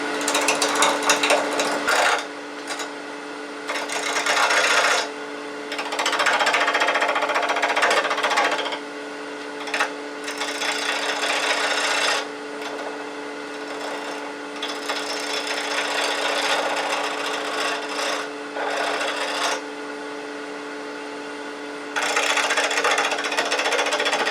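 A wood lathe hums steadily while a 3/8 inch bowl gouge cuts scrap wood, producing rough, scraping chatter in uneven bursts that come and go over the running motor.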